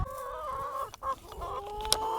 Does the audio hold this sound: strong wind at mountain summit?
no